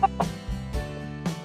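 A white chicken clucks in several short, close, separate bursts, soft and throaty, with a quiet background and no speech.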